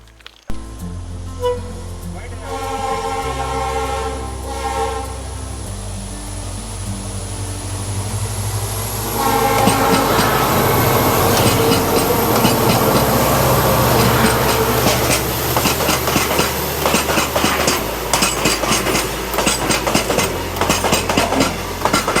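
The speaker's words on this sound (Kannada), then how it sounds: "ಟ್ರೈನ್ ಬರ್ತಿದೆಯಲ್ಲ" A train approaches and rolls past nearby on the Dudhsagar trek route, its rumble and rhythmic clatter growing louder, with a long horn-like tone early on and voices talking underneath.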